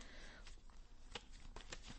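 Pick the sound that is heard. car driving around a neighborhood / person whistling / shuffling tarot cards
shuffling tarot cards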